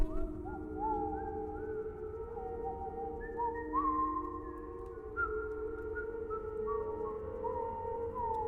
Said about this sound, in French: Il siffle fort quand même. Parce qu'on entend son sifflement à travers les murs quoi.